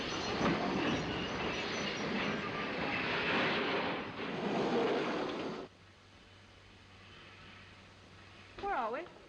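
A 1930s train gives a loud, continuous rumble of wheels and carriages that suddenly drops away as it comes to a halt on a siding, leaving a quiet hum and a brief voice near the end.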